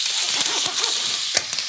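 Butter with garlic, rosemary and thyme sizzles steadily in a pan, a close continuous crackling fry with occasional sharper pops and stirring.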